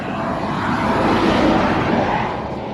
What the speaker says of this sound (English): Why are there so many trucks now all of a sudden?